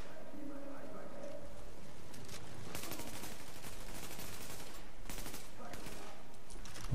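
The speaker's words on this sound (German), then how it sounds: "Wo wird denn hier noch geschossen?" Gunfire in the video game The Division, bursts of automatic shots crackling at middle distance over constant ambient noise, with someone speaking in between.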